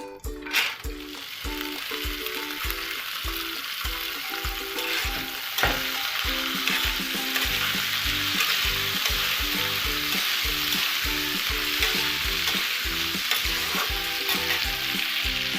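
Food fries and sizzles steadily in a pan during home cooking, a continuous loud hiss with rhythmic scraping stirs throughout, close by and without talk.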